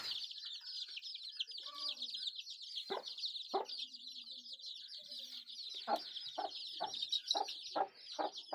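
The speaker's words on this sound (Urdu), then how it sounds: "یہ ہمارا مرغی ہے ماشاءاللہ۔" Chickens with chicks on a farm: a steady, busy stream of high peeping from the chicks runs throughout, with louder clucks from a hen breaking in repeatedly, close to the microphone and with no talking.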